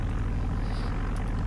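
A Grumman Goose tailwheel plane's engines drone steadily with a loud, even rumble from start to finish, with no talk over it.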